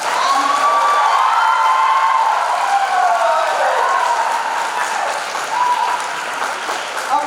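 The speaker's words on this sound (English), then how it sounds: "I also received such a big applause" Loud, sustained applause from a large symposium audience fills the whole stretch, with scattered cheers and whistles rising above the steady clapping.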